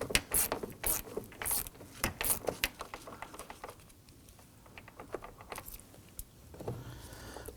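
A ratchet turns the door mirror nut on a 2003-2014 Volvo XC90, giving rapid close clicking bursts with brief pauses and some handling of loose parts, with no talking.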